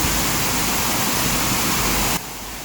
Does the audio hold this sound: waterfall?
yes